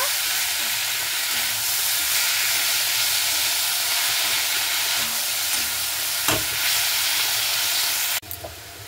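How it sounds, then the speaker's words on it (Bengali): Fenugreek greens being stirred in a hot frying pan give a steady, loud sizzle and hiss throughout, with one sharp scrape of the spatula near the end before the frying quiets slightly. "এবার আমি শাক শাকটাকে দিয়ে আর সবগুলো দিয়ে খুব ভালো মতো করে নাড়াচাড়া করে নেব।"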